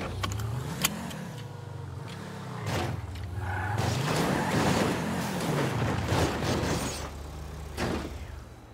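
Video game car arriving in a Brazilian roleplay setting: a steady engine hum rises and falls with gear-like sweeps, mid-distance and fairly loud, with a few metallic clicks and no talk.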